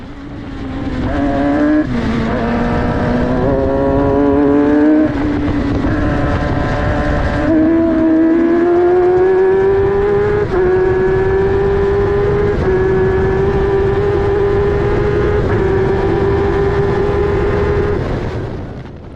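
An F1000 race car engine screams through repeated upshifts at Oulton Park, pitch dropping and climbing again at each hesitant, troubled change, loud and continuous with wind rush over it.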